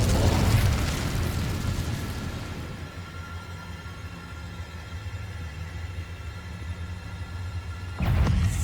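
An Incendio fire spell cast in Hogwarts Legacy: a loud fiery burst with a rumbling whoosh that fades into a sustained crackling roar, followed by another heavy burst at the end.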